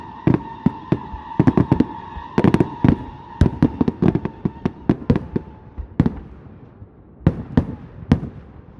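Fireworks finale with a rapid barrage of loud booms and crackling bursts, densely clustered at first and then thinning to scattered single bangs, echoing outdoors.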